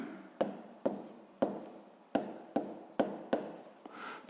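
Pen writing on paper while working a sixth-grade maths problem, heard as seven sharp taps each followed by a short scratch, spaced about half a second apart, quiet and close, with no speech.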